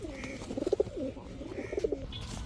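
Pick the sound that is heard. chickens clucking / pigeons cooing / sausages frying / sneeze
pigeons cooing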